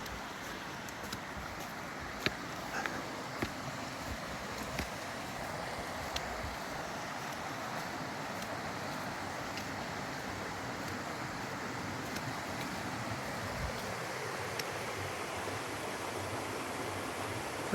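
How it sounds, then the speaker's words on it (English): Rushing stream fed by two tributaries along a rainy hiking trail to Buck Gulch Falls, a broad, constant wash of flowing water that holds steady throughout, close and moderately loud, with faint clicks scattered on top. "A lot more water rushing here."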